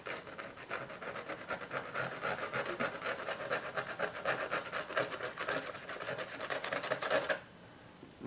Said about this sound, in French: je vais essayer de gratter un peu